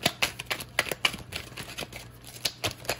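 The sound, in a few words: shuffling playing cards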